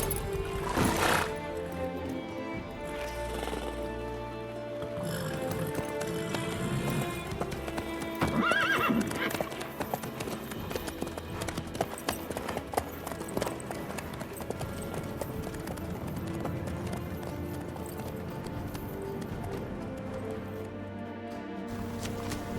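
Horse hooves clip-clop steadily on a road in The Witcher 3 video game, a continuous trotting rhythm under game music, with a brief whinny near the start and quiet talk in places.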